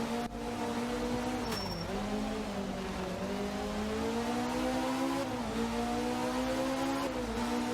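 A turbocharged inline four-cylinder car engine in a video game revs continuously and loudly, its pitch dipping and climbing through several shifts, with no talking.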